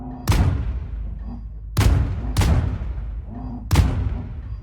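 A ship cannon fires in the space co-op game Void Crew: four heavy, loud booms at uneven intervals, each with a short rumbling decay, with no talking.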